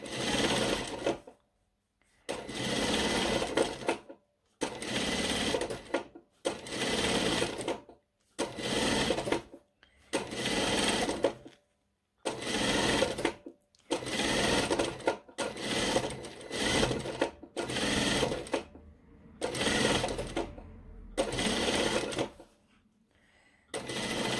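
A sewing machine stitches the fly of a pair of trousers in a dozen loud bursts of rapid needle clatter, each a second or two long and split by short pauses.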